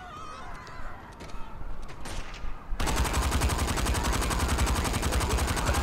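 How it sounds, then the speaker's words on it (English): Gunfire in a PlayStation VR game, starting as scattered faint shots under a noisy background, then a dense, continuous rapid automatic burst that fills the second half. "Are those just some random people shooting at me?"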